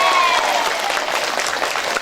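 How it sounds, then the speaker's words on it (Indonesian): Loud, dense applause from a crowd at an Islamic boarding school alumni reunion, clapping for the students. A brief whistle-like tone sounds at the start, over a continuous close patter. "Tepuk tangan dong buat santri."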